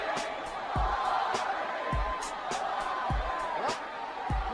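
Arena crowd at a WWE wrestling match between Brock Lesnar and Goldberg, a steady broad roar of restless spectators with scattered thumps, heard at a distance and continuous throughout.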